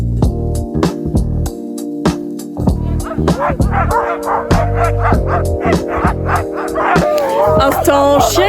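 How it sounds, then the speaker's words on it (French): A dog barks repeatedly and close at a ski resort, sharp bow-wow barks in quick bursts mixed with yips and whimpering whines, with voices talking in the background. "Instant chien qui aboie"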